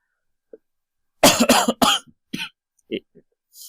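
A person indoors gives three quick, harsh coughs close to the microphone in rapid succession, followed by a few soft breathy vocal sounds and the start of speech.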